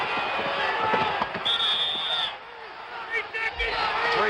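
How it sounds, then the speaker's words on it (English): Crowd noise fills a basketball arena during an NBA Finals game between the Phoenix Suns and Boston Celtics, a steady roar with scattered shouts and a bright whistle-like tone, heard under broadcast commentary. "You can hear the crowd in the background."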